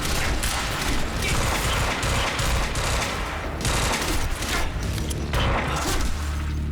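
Dense, sustained gunfire in the video game Quantum Break, rapid overlapping automatic bursts and booming shots filling the whole stretch at close range, with no voices over it.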